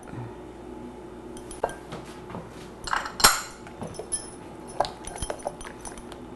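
Condiment sauce with ketchup is stirred in a bowl, giving scattered clinks and taps of a utensil against the dish, some sharp, over a quiet background.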